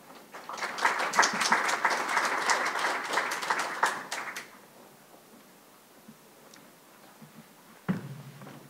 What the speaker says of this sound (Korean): 최백은 교수님을 박수로 모시겠습니다.